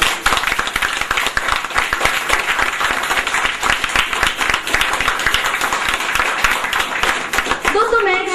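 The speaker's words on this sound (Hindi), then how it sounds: "आपके सम्मान में अपने आप के लिए जोरदार तालियां बजाता हूं" Audience applause at a motivational seminar in India, dense rapid clapping from a crowd that is loud and sustained throughout, briefly ending with a voice at the close.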